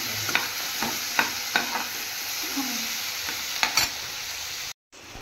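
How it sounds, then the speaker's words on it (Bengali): Small shrimp fry in a pan with a steady, close sizzle broken by sharp scraping stirs every second or so, ending with a short silence. "দেখুন চিংড়ি মাছগুলো ভাজা ভাজা হয়ে গেছে"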